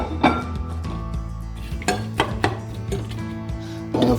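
Sliced onion tipped into a saucepan for a brown stew, giving close metallic clanks and clinks of the pan and utensil in scattered bursts over a low background rumble.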